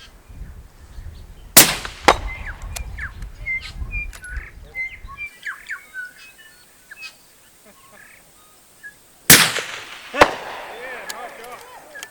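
Two loud, sharp rifle shots ring out outdoors at a shooting challenge, several seconds apart, each with a trailing echo, while birds call and chirp faintly in the background.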